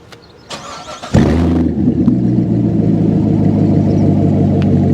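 A Corvette C8 Z06 with an AWE track exhaust fires up about a second in with a sharp, loud bark, then settles into a deep, steady, rumbling idle that carries to the end. There is no talking.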